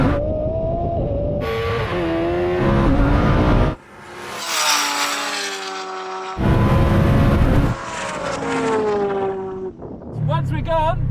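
Loud, continuous engine roar from a Lamborghini Huracan Turbo and a Kawasaki H2R accelerating side by side in a drag race, with rising and shifting pitch, brief drops at gear changes and a high motorcycle whine at the end.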